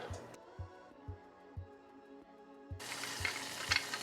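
About two tablespoons of butter melt in a pan, starting with a faint crackle under a steady low rhythmic thump, then breaking into loud, even sizzling for the last second or so.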